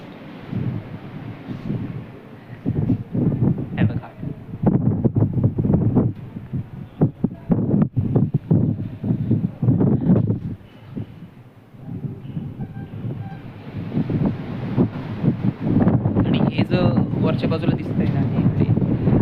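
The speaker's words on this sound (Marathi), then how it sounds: "एकदम असं थंडगार हवा सुटली आहे कंटिन्युअस हवा आहे इथे" Cold, steady wind blows across the Gagangad hilltop, a continuous broadband rush buffeting the microphone for the whole stretch, with a person talking over it throughout.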